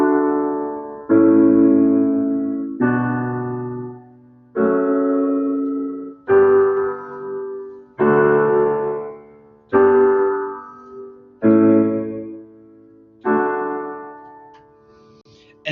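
The Pachelbel's Canon chord progression played slowly on a keyboard, one sustained chord after another at an unhurried, regular pace, each fading before the next.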